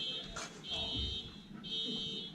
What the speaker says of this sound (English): Somebody set their alarm off.